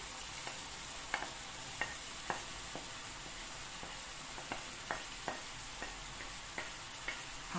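Sofrito for a chicken and mushroom empanada sizzles softly in a pan, with a series of sharp scraping clicks from stirring scattered at irregular intervals over a quiet, steady hiss.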